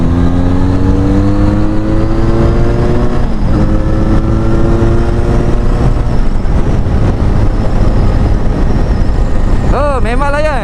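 Benelli Leoncino 500 motorcycle fitted with an aftermarket exhaust, loud and close on a top speed run, its engine note climbing steadily through the gears with a sharp rising rev near the end.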